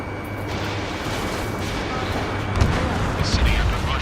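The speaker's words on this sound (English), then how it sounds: "gunfire and the roar of jets echoing through the streets" Dense, continuous battlefield din from the video game Ace Combat 7 with booming gunfire and rumbling jet roar throughout, a louder burst near the end, mixed with faint voices.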